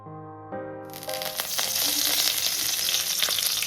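Ingredients drop into hot coconut oil and start frying for Kerala-style beef and tapioca, a loud, steady sizzle that begins abruptly and keeps going.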